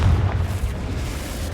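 A Confringo fire spell blasts in the Hogwarts Legacy video game, a deep booming explosion at the start that rolls off into a dull low rumble fading over about a second and a half.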